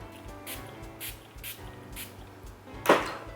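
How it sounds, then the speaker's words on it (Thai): A mineral water spray mist is aimed at a made-up face in a series of short, soft hissing puffs, then one louder spritz near the end. "เดี๋ยวเราจะมาลองเทสดูดีกว่าด้วยสเปรย์น้ำแร่นะคะ"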